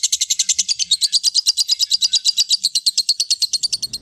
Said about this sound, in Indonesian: Iya, hewan burung namanya.